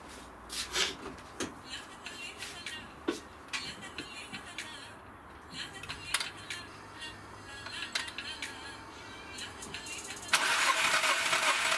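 A Skoda Fabia 1.4 engine is cranked during a compression test with one cylinder low on compression, making a series of uneven starter whirs and clunks, close by, before a louder rushing burst at the end.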